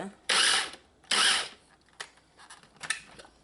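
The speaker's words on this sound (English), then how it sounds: "Put your lid on and you're going to pulse this on low" A blender on its low setting pulses to chop smoked herring: two loud, close whirring bursts, each about half a second long, followed by quieter clatter and rattling as the pieces settle.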